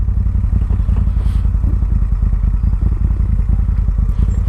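A 2013 Moto Guzzi California motorcycle engine throbs loudly up close in a fast, even pulsing beat, with a thudding low-end clatter and no voices.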